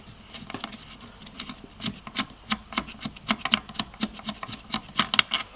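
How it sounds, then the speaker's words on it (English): A 3mm Allen key turns the bipod screw on an Ares Striker AS02 airsoft rifle, making quiet, rhythmic metallic ticks and scrapes in quick repeated strokes, close up and with no talking. "We're going to get a 3mm Allen key, take the bipod screw"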